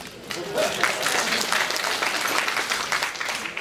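Warm applause from the audience at a scholarship brunch, a dense, steady patter of clapping hands that fills the room alone for several seconds.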